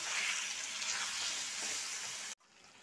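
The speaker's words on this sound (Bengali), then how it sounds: "গ্যাসের ফ্লেমটাকে লো টু মিডিয়ামে করে আদা ও রসুন বাটাটা দিয়ে প্রায় 2-3 মিনিট মতো কষিয়ে নিয়েছি।" Chicken mixed with ginger and garlic paste sizzles in a pan over a low-to-medium gas flame for a Hyderabadi chicken fry, giving a constant bright frying hiss that cuts off sharply near the end.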